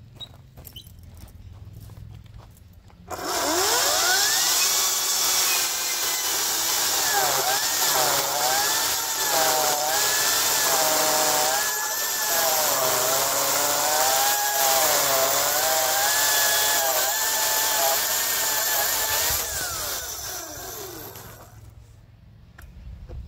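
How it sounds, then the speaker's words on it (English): A Stihl chainsaw fitted with a progressive depth gauge chain cuts through a log in a single pass, a loud sustained high-pitched buzz with shifting engine pitch for around eighteen seconds before winding down. "cut the same log again. So we're only going to do one pass"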